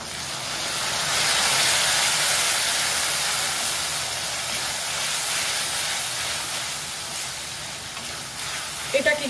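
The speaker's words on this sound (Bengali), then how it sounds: "এবার আমি এই জলটা দিয়ে দিচ্ছি" Water poured into a hot pan of spiced masala, a loud sustained hiss of steam and sizzling that swells early and slowly settles, with a brief clatter at the end.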